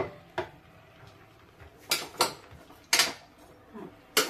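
Vegetables and egg being stirred in a pan, a spatula knocking and scraping against the metal in several sharp, separate strokes, close by with no talking.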